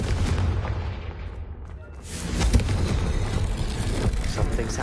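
A Confringo blasting spell explodes in the video game Hogwarts Legacy as a broad, rumbling boom that swells after a short lull and stays loud and dense, with mechanical crackle on top.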